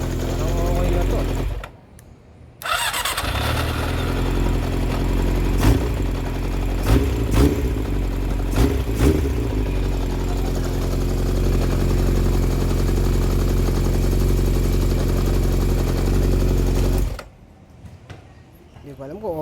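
Yamaha XJR400 motorcycle engine with an overfeeding carburetor, idling loud and close with a steady rumble and a few sharp throttle blips, stopping briefly early on and cutting out near the end.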